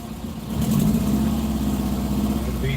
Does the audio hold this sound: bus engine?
yes